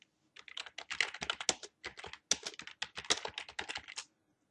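Fast, steady typing of words on a computer keyboard while entering text in Word, a close run of crisp key clicks with brief pauses, no voices.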